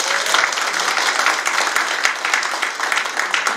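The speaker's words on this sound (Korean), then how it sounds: "우리 이천 시장님을 위해서 큰 박수 부탁드리겠습니다" An audience at a 2024 Icheon residents' meeting in Gwango-dong applauds for the mayor with steady, dense clapping that continues evenly throughout.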